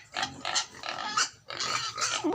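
A farm pig grunting and oinking in four or five loud, close, rough bursts with brief gaps between them, no talking.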